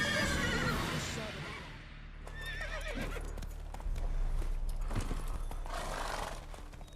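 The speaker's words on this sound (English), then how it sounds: "Not so fast, Roach" A horse in the video game The Witcher 3: Wild Hunt whinnies loudly up close. Clip-clopping hooves follow, along with voices and other game sounds.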